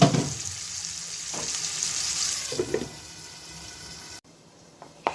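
Chicken and mushroom sauté frying in a covered pan gives a steady hiss with soft clinks and stirring knocks, then a sudden drop to quieter sizzling near the end.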